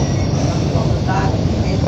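An MBTA Orange Line subway train runs on new tracks between Wellington and Assembly, giving a loud, steady rumble of wheels and car noise from inside the car.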